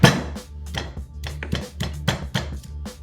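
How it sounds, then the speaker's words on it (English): Garlic cloves being bashed on a board, a run of about a dozen firm, evenly spaced thuds close up, each ringing briefly, without speech. "take some cloves of garlic and bash these up"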